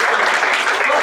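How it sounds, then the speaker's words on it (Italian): An audience at a meeting gives Giorgio a round of applause, a full, continuous patter of many hands clapping close by, with faint voices mixed in. "gli facciamo un applauso"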